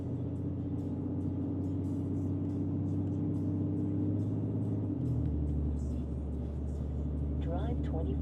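Ram truck with a Cummins diesel towing 20,000 pounds through small towns, a steady deep engine drone heard from inside the cab with a shift in pitch partway through, while a person talks over it.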